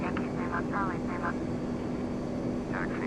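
A simulated Boeing 767 taxis toward parking, its engines holding a steady low whine and hum with a faint tonal drone, while a voice talks intermittently over it.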